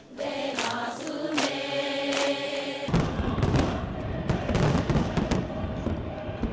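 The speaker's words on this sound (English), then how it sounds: "What followed was the most spectacular fireworks show we had ever seen." A fireworks show in Pyongyang: repeated booming bursts and crackling shells, loud and layered, with a faint crowd murmur behind them.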